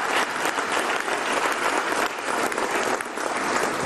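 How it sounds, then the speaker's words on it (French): A crowd at the Cameroonian Ballon d'Or 2022 football awards ceremony claps steadily and densely throughout, with a slight dip near the end. "Je vous demande, s'il vous plaît, d'applaudir le patron de la CNPS."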